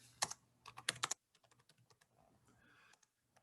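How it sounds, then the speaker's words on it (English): Typing on a computer keyboard, a close quick burst of crisp key clicks followed by softer, spaced taps, with no talking. "I'm going to try to type that in there."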